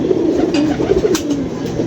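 Pigeons coo continuously at close range, a dense overlapping murmur of low throaty calls from a flock kept by a pigeon fancier, with no voices over it.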